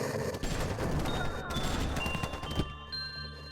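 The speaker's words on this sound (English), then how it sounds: "I heard gunshots." Rapid bursts of gunfire from the video game Lobotomy Corporation, dense and continuous over a steady background, with a few louder cracks near the end.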